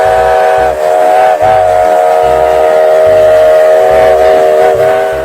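A classic steam train locomotive sounds its whistle in a loud sustained multi-tone blast, layered over rhythmic chugging and clanking of rolling wheels, all close and continuous.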